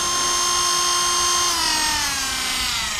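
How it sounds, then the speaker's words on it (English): A Hyper Tough cordless rotary tool runs alone in a workshop with a loud, steady high-pitched whine that drifts slightly lower in pitch over three seconds. "I just have this Hyper Tough basic Dremel"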